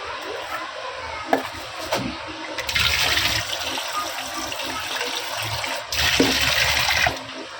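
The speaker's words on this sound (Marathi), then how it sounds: "ते धुवून घेते पापलेट" Water runs and splashes steadily while pomfret fish is washed in a home kitchen, with a few knocks and handling sounds and two louder bursts of flow; no one speaks.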